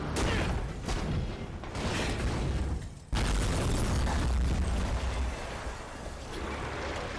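Explosions in the video game Devil May Cry 5 boom one after another in dense, roaring bursts, with a brief lull before another heavy blast continues the rumbling barrage.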